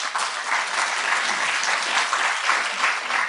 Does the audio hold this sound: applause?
yes